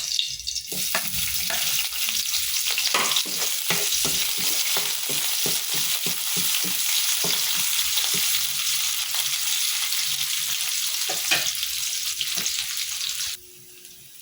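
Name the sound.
browning sinigang ingredients and onion in a pan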